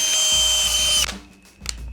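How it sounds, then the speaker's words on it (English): A power drill drilling pilot holes whines steadily at close range for about a second, then cuts out, leaving a brief quieter tail. "I've got my drill out to do a couple of pilot holes"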